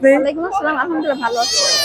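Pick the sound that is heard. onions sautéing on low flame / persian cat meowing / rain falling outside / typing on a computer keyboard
persian cat meowing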